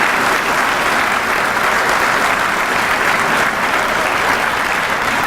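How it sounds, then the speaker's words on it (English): Loud, dense audience applause fills the hall at the Rhode Island Criminal Justice Hall of Fame induction ceremony, sustained clapping from a large crowd lasting about five seconds without any voices over it. "Would you give them all a round of applause"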